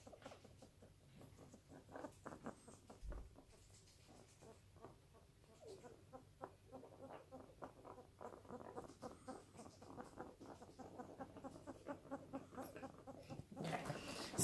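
Pet rat with an early-stage mycoplasma respiratory infection, heard as faint, close, rapid crackly breathing and soft rhythmic clicks and rustles at low volume, with no talking.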